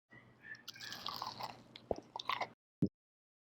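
Crispy, thinly shaved zucchini pakora bhaji fritters being bitten and chewed up close, with a run of crunchy, wet mouth sounds followed by a short pause and one final sharp crunch.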